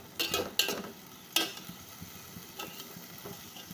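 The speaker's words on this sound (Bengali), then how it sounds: "এখন আর অল্প কিছুক্ষণ আলু আর ডাটা একসাথে একটু কষায় নিব" Potatoes and vegetable stems stirred and sautéed with spices in a pan, with a low continuous sizzle and several quick scraping and clattering stirs near the start, then softer intermittent scrapes.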